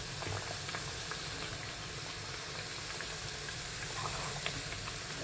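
One puri at a time frying in well-heated oil makes a constant bubbling, hissing sizzle, close and even throughout with no one speaking.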